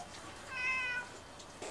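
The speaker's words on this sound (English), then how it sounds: "And as usual, I got a helper kitty." A pet cat meows once, clear and fairly close, a single drawn-out call in the middle of a quiet garage-like room during speedometer work on a diesel caravan, with no talking.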